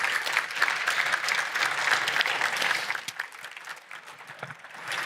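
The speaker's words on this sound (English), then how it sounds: "Could we give that a big round of applause" A dense round of audience applause fills a car industry forum hall at the Geneva motor show, steady and full for several seconds before thinning slightly toward the end.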